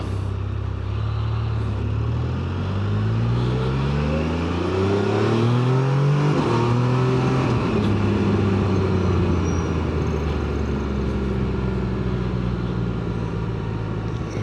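Can-Am Spyder RT Limited three-wheeler pulling away in first gear, its engine note climbing steadily in a loud, continuous rev, then easing and rising again through the gears amid road and wind noise.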